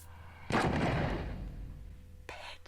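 A single loud gunshot rings out in a tense Riverdale TV drama scene, a sharp blast with a long decaying rumble, followed by a second, fainter knock moments later.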